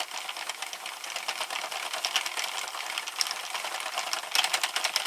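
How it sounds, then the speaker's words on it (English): A Sentro knitting machine is cranked through rows of waste yarn, giving a steady, close, rapid clicking and rattling that runs continuously, with no talking. "I'm not going to crank as many rows this time for the waste yarn on this end."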